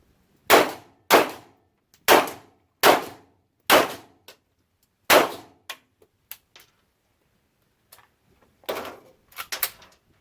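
Several sharp metallic shots and clacks from a CZ P-09 pistol firing steel case ammunition, one light-strike misfire among them, spaced in a loose rhythm followed by softer handling clicks, close and loud.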